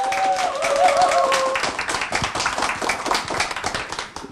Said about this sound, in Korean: 큰 박수로 이민구 선생님 이 자리에 모시겠습니다